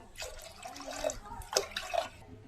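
Water is poured into a pan with a soft splashing trickle and a few drips, close by and fairly quiet.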